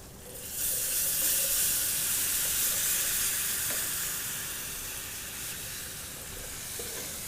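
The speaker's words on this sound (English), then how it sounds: "You never notice how much noise frying takes until you actually listen to it." Loud frying sizzle in a casserole pan as stock goes in, a hiss that surges up quickly, then holds steady and eases slightly.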